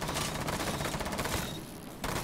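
Gunfire fills the shooting range in Rainbow Six Siege as dense, loud rapid fire rolls on almost without a break, with a brief lull near the end before the shots start again.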